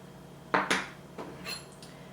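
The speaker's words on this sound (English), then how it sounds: "I just kind of mash it in the skin here" A potato being mashed inside its own skin with a utensil, giving a few sharp clinks and scrapes followed by softer, quieter taps, close up with no talking.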